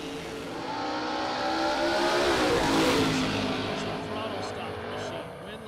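A throttle-stop drag race car launches at a Superbucks bracket racing event, its engine roaring louder as it passes close and then fading down the track, with an announcer talking over it.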